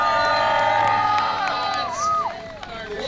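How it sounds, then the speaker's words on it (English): A large crowd cheers and whoops loudly at an event, with excited shouting and voices rising and falling throughout. "Go ahead and give a round of applause."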